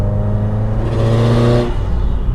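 A 2015 Subaru WRX STI engine revs and holds at around 3,000 RPM, a loud, steady, close drone with a deep turbo-flat-four growl that swells slightly and then drops away near the end.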